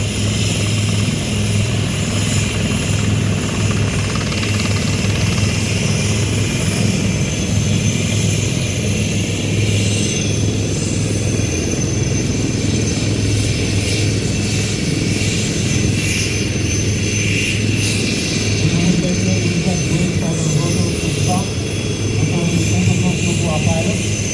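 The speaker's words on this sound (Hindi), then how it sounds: "किस तरह से जयपुर के आसमान पर सेना के ये हेलीकॉप्टर गरज रहे हैं" A steady, loud engine drone of Indian Army helicopters over Jaipur fills the air continuously, with a low rumbling throb passing overhead, broadband and unbroken throughout.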